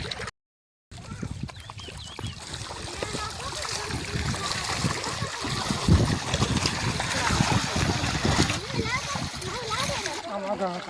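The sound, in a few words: fish splashing in water while eating thrown puffed rice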